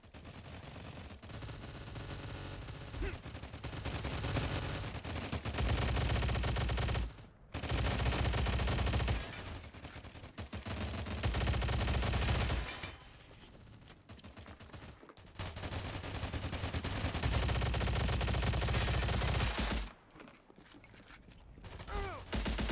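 Sustained bursts of automatic gunfire in the shooter game Stalcraft: X, an exchange with several players firing, loud and dense with brief pauses between volleys.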